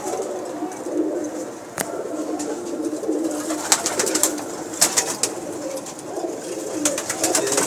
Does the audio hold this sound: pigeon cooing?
yes